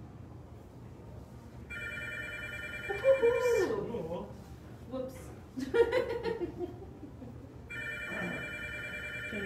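A telephone rings in repeated electronic trills, twice, during an art painting demonstration. Voices talk and laugh over it between the rings.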